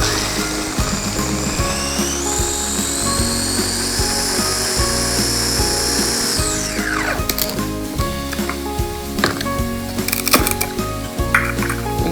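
A blender purées walnuts with sugar for a Turkish walnut katmer filling, giving a loud, steady motor whir for several seconds that winds down midway, followed by rattling and clattering from the jar.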